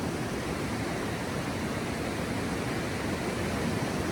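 River water rushes steadily below the Upper Cox Brook covered bridge in Northfield, Vermont, a continuous even roar close by with no voices.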